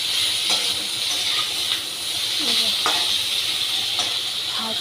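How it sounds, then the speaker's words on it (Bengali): Chopped ginger frying in a pan gives a steady, close hissing sizzle, broken now and then by soft scrapes of stirring. "আদা দিয়ে একটু আদাটা ভাজবো এর সাথে মিক্স করে।"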